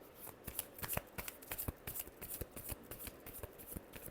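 Tarot cards being shuffled by hand in quick, riffling bursts, a steady papery flutter with soft slaps running throughout, close and fairly quiet with no talk.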